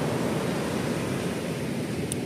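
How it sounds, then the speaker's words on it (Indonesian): Large waves break along the shore at Bajulmati beach, producing a steady, loud wash of surf noise with no pauses or voices. "Ombaknya besar dan adanya di bibir pantai"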